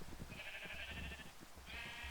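Sheep in the Minecraft video game give two nasal bleats, the second one after a short gap, quiet over faint game background noise.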